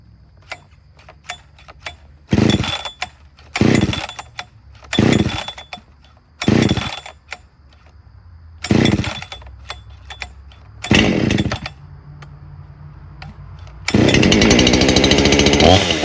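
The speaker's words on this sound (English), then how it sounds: "Let it idle for a minute or so before we tune it." A Jonsered 625 II chainsaw with a freshly tuned carburetor, revved in repeated sharp bursts between rough idling, then held at a sustained high-pitched wail near the end, loud and close.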